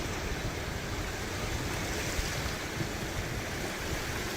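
Kosi River water rushing hard through open barrage gates in flood, a dense, constant roar of fast-flowing water with no voices.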